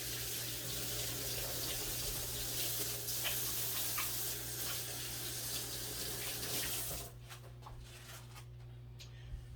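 Tap water runs steadily into a sink while dishes are washed, with a few clinks, then the flow stops abruptly near the end, leaving a quiet room.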